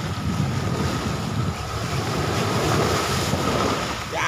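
Strong sea waves crash onto a beach at Sabang, Vinzons, Camarines Norte, with a loud, continuous surf roar and wind buffeting the microphone. No one speaks.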